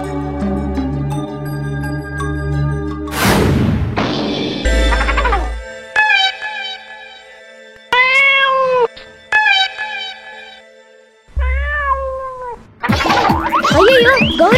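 A cartoon cat meows several times in drawn-out, rising and falling cries, separated by short bursts of cartoon sound effects and music, loud and close.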